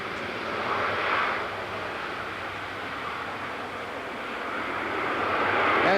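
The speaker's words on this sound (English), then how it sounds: "This first takeoff will be a takeoff roll followed by a spiral departure to show the noise abatement procedure" The QSRA research aircraft on its takeoff roll and spiraling departure at the 1986 Abbotsford International Airshow, a moderate distant engine rush that swells briefly, eases, then builds again toward the end.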